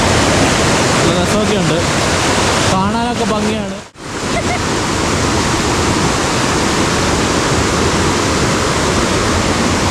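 Water rushes over rocks at Paathanpara, a hidden Kerala cascade, as a loud, constant roar close by. People talk over the steady flow.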